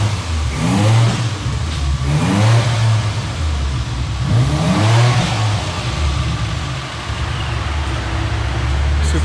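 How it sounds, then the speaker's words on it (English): Supercharged Mitsubishi Eclipse engine, running a boosted VQ35HR, revving on dyno rollers: a loud, steady mid-pitched engine roar that swells through repeated rising rev sweeps, with a low rumble throughout. "Supercharged Eclipse on the rollers."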